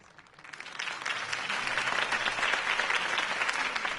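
A crowd bursts into applause after a campaign speech in a Batman Telltale game scene, the clapping swelling over the first second into a dense, sustained roar of many hands that holds steady to the end.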